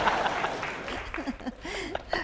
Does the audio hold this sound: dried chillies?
no